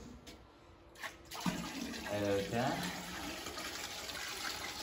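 Water pours steadily into a bucket for several seconds, a broad splashing wash that starts after a brief spoken word and continues under background noise.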